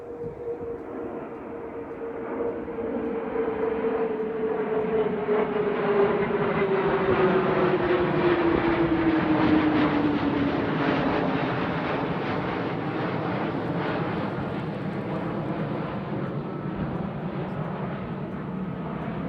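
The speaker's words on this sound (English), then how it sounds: "you get to see some cool jets flying over above" Military jets from a nearby training base passing overhead at a Florida state park, a long, loud roar that swells and slowly fades, with a falling whine as the aircraft moves away.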